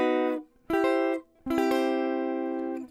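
Three open C-major-type chords strummed on the bottom four strings of a guitar, each ringing with rich sustained harmonics before the next; the last chord rings longest, clean and close with no voices.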